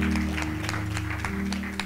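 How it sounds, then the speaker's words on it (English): A church congregation claps along during a worship service, a steady rhythm of hand claps over a sustained organ or keyboard tone, fairly faint and roomy. "Give the Lord a hand clap."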